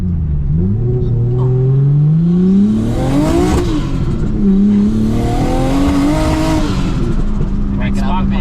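A Nissan A31 Cefiro engine in need of spark plugs, making around 240 kilowatts, is revved hard twice: each time the pitch climbs steadily, peaks, then falls back, loud and close.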